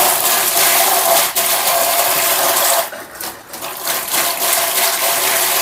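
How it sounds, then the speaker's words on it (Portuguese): A shower is switched on and water rushes out loud and close, a steady hiss that briefly thins and sputters as the pressure drops before surging back strongly. "Vamos testar aqui o chuveiro para ver aí... como é que tá"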